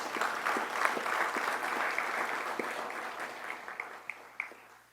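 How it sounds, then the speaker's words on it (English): Applause from a ceremony audience for police officers being promoted at an LMPD promotion event, a steady moderate clapping that tapers slightly over five seconds, with a few sharper claps near the end. "Give them a round of applause."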